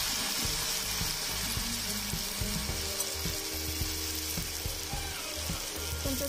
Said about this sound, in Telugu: అలా 3/4 మునిగిన తర్వాత దాన్ని తీసుకెళ్ళి ఆయిల్లో వేయాలి.